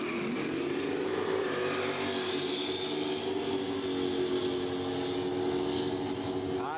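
A street race car at a Quick Street drag meet in Horsepower Valley roars loudly down the strip, its engine note rising steadily in pitch as it accelerates, with a continuous thick rumble throughout and no talk.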